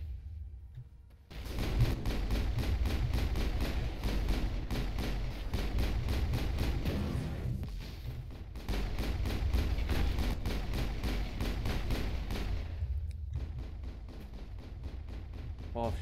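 Rapid weapon fire in the video game Mass Effect, a dense stream of repeated shots in sustained bursts, broken by a short pause midway and ending in a quieter tail, with faint voices underneath.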